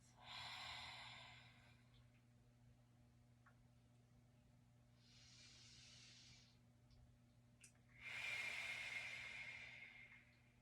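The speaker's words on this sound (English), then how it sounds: "breathing in through the nose" Slow breathing during a self-administered abdominal massage on a core ball, with an airy inhale around the start and a louder, longer exhale near the end, separated by quieter breath noise over a steady low hum.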